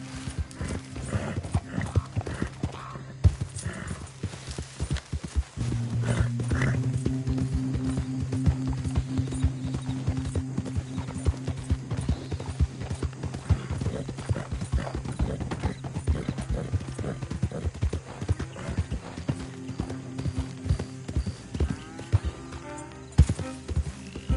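Horse hooves clip-clop steadily through a ride in Red Dead Redemption 2, a close, continuous rhythmic patter with a whinny near the start, heavy game music and ambience beneath, and a few brief hard knocks along the way.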